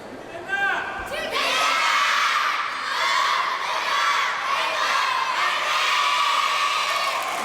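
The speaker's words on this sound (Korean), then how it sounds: "각자의 구호로 소개하고 우렁찬 함성으로" About five hundred youths cheering together at an arts festival gathering of youth orchestras, dance troupes and choirs, a loud, sustained roar of massed voices and shouts that swells right after a brief pause near the start.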